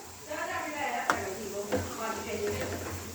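Fried onions and Maggi masala stirred in a pan, a couple of sharp spoon taps against the metal over a soft scraping bed, with a voice talking throughout.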